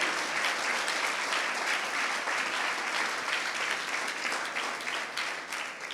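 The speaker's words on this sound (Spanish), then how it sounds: "Si le va a dar un aplauso de adoración, déselo fuerte al Señor." A church congregation applauds in worship, a sustained, dense round of clapping that holds strong throughout before easing slightly at the end.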